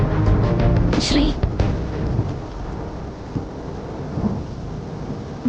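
Thunder cracks and rolls through steady heavy rain in a Malayalam film scene, a loud close peal early on fading into continuous downpour hiss.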